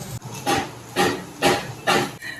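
Crab for Goan-style crab sukka roasting in a pan, with four loud, regular bursts of hissing sizzle, each swelling and fading about half a second apart, close and clear with no voices.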